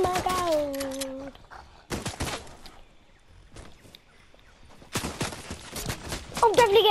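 Rapid bursts of video game gunfire come in dense volleys at the start and again near the end, with a quieter stretch between them, while a player talks over part of it.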